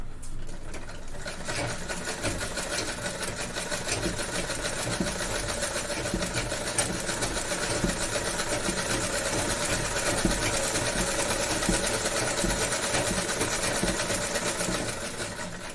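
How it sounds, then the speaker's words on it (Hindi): A sewing machine runs steadily while stitching a straight seam along the edge of a piece of cloth, a continuous close mechanical whirr and rapid needle clatter with no talk. "बस आपको सीधी सिलाई लगानी है"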